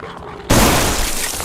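A shotgun blast in the indie survival-horror video game Ground Zero, a single loud broadband boom that starts abruptly after a quiet moment and rings out for about a second.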